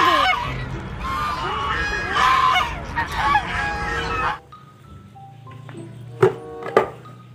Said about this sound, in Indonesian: Wow, ternyata ini angsa teman-teman.